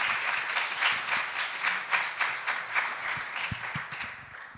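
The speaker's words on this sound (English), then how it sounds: "Let's give him a round of applause" Audience applause after a talk at a diabetes advocacy event, steady dense clapping at moderate level throughout, with no voices over it.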